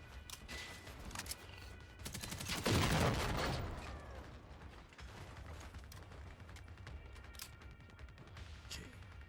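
Minigun fire aimed at prototype harvester robots in the shooter game Generation Zero, a dense roaring burst that swells near the middle amid clanking mechanical noise and impacts.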